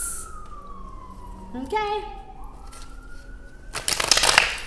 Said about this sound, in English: So you hear them sirens?